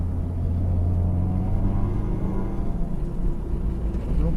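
A 2015 Subaru WRX on a new suspension setup laps Thunderhill West at speed, heard as a continuous low engine and road rumble from inside the car, steady and loud with slight surges.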